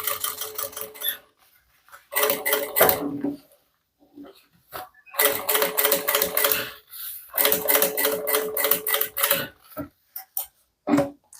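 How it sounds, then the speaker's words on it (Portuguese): A sewing machine with a worn presser foot runs a safety seam around a handbag lining, whirring in several start-and-stop bursts of rapid stitching separated by short silences. "eu vou só passar uma costura de segurança aqui em volta"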